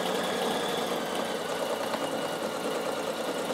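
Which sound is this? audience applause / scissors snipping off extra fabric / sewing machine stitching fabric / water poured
sewing machine stitching fabric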